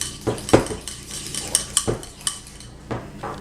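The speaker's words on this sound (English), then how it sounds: "It says to whisk this to fully combine." A white chocolate mixture whisked in a bowl for a raspberry marble cake, giving a series of sharp metallic clinks and scrapes of utensil against the bowl, close and fairly loud, with no talking.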